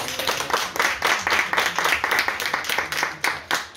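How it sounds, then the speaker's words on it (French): Audience applause at a literary talk in a cosy Marseille venue, a dense, steady round of clapping from a small crowd, close and lively, lasting a few seconds with no speech over it. "On peut les applaudir."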